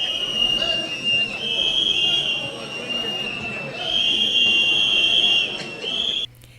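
Opposition MPs blowing whistles in parliament, sustained shrill whistle tones layered over the noisy hubbub of a crowded chamber, with talk underneath.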